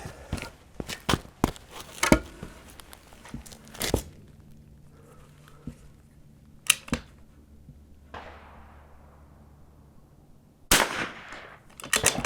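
Rifle shots fired during an NRL22 rimfire course-of-fire match at an outdoor shooting range: a dozen or so sharp, fairly close cracks, some in quick succession and others spaced apart, with quiet gaps of low background hum between them.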